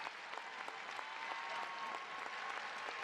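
A crowd applauds steadily and densely at a Big 12 college wrestling match on senior day in an arena, the clapping filling the space at moderate loudness without pause.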